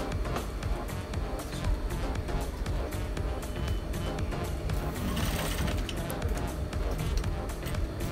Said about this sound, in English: I've cut the dart and the suit pocket side, so I'm sewing the dart part.